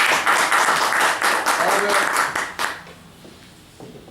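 Audience applause: a dense burst of many hands clapping that holds steady for nearly three seconds and then cuts off, followed by someone speaking.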